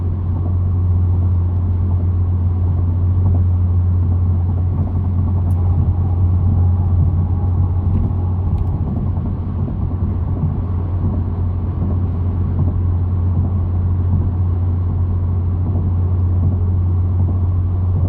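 2022 Genesis G70 Launch Edition on a highway pull, a constant deep engine and exhaust drone with road rumble filling the cabin, steady and loud with no talk.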